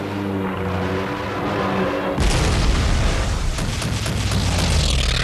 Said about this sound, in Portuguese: Os canhões antiaéreos nos porta-aviões japoneses abatem os aviões americanos um após o outro.